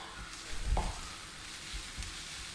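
Green chillies frying in a pan with ginger garlic paste and onions, giving a soft, faint sizzle with one brief stirring scrape near the start and quiet crackle after.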